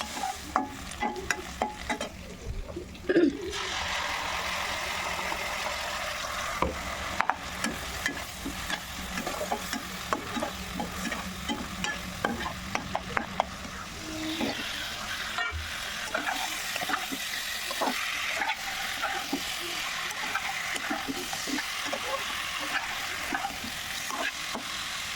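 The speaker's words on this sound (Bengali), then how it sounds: "তাহলে এটা ভাজা হতে থাকে" A steady sizzle of potato and bitter gourd frying in a pan, with frequent scraping and clattering as it is stirred and a brief louder knock near the start, without any voices.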